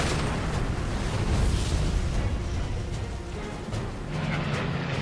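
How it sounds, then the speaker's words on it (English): Machine gun fire from a Flying Tigers fighter diving at 300 miles per hour as Jim Howard strafes an airfield: a loud, continuous roar of rapid bursts and booming blasts with no pause and no voices. "Jim Howard strafes the area, breaking the airfield with machine gun fire"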